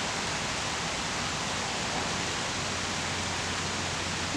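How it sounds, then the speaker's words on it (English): Rain falling outdoors on a July afternoon, a dense, steady hiss of even intensity throughout with no distinct drops or voices. "It's raining for reals now."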